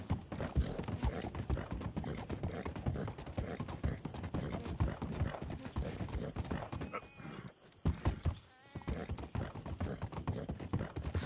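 Video game hooves of a Tennessee Walker horse clip-clop in a steady walking rhythm in Red Dead Redemption 2, close and continuous, with faint creaking tack and a brief lull near the end.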